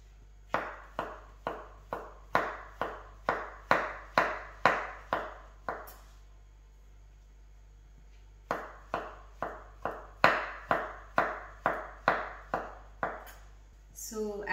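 A knife chopping mushrooms on a cutting board: two runs of crisp, evenly paced chops close to the listener, about a dozen strokes each, separated by a pause of near silence.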